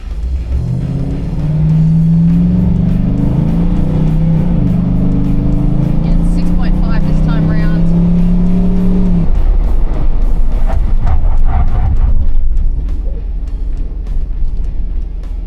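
A vehicle towing a Eurofloat caravan brakes hard from about 85 km/h with its electric trailer brakes engaged; the engine drone rises, cuts off abruptly midway, then gives way to close road rumble and tyre noise.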